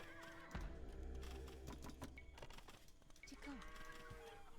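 Horse neighing in the Age of Empires II video game, a close whinny with a sharp onset rising and falling over game ambience and clip-clop, followed by further brief horse calls.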